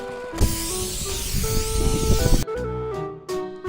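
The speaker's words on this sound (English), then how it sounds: "using this industrial traffic road line marking spray paint we bought" Industrial road line marking spray paint hissing steadily from a can for a couple of seconds, loud and close, then stopping abruptly.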